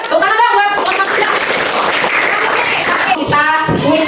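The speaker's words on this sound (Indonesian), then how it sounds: "Tepuk tangan dong buat kelompok 3." A classroom of children breaks into a few seconds of dense, lively clapping for group 3, with children's voices and chatter at the start and end.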